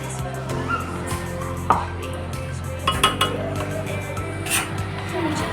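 A spoon works gram flour and coarse-ground roasted chana dal as they roast in a pan for besan ladoo, making scattered clinks and scrapes over a steady kitchen hum.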